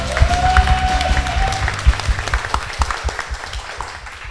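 Studio audience at a public broadcast of a baseball talk show claps and cheers, dense broadband applause with a brief rising whoop early on, steady and close throughout.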